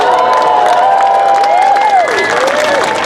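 A crowd at the Calaveras County Jumping Frog Jubilee finals claps and cheers loudly without pause, with whistles and shouts rising over steady applause.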